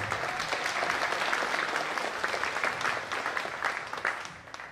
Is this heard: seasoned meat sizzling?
no